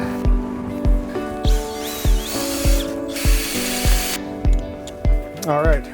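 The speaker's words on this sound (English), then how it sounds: "We're gonna drill some holes." A power drill bores holes in Lake Superior ice inside an Eskimo 650 fishing shelter, its motor whining in repeated rhythmic bursts, fairly close, with a voice briefly heard.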